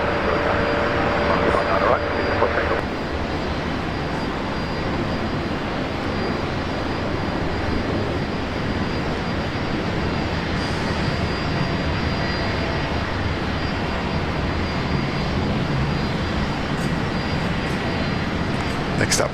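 A jet airliner taking off at Brisbane Airport makes a loud, sustained, broadband engine roar with a steady rumble that fills the whole stretch, and faint radio chatter sits underneath at the start.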